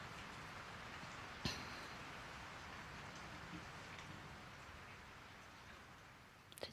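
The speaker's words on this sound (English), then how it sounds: "It's raining." Steady in-game rain effect in the BanG Dream mobile app, a soft continuous hiss of falling rain at a constant low level, broken by a brief click near the start and small taps at the end.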